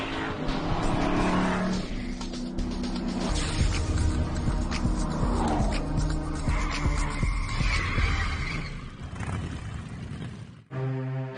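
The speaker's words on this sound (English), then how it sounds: "The Boss 302, when you take it out on the track, it's phenomenal on how well this car will handle." A Ford Boss 302 driven hard on a race track gives a loud, continuous engine roar with shifting pitch and tire squeal, ending in a brief cut to another sound.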